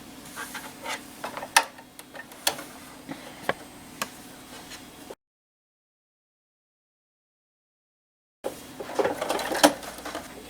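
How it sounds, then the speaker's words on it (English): Sewing machine stitching around the edge of fabric and batting, rapid close mechanical patter with sharp clicks, a gap of silence partway through, then stitching resumes. "So I'm going to sew all the way around"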